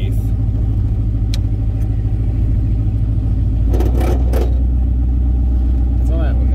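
A Ford Shoebox car engine drones loudly and steadily while driving, a continuous low rumble with some clatter, and a voice talks over it briefly.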